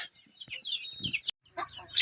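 Chickens cluck and chirp close by at feeding time in short, uneven bursts, with a brief silent gap before the clucking resumes.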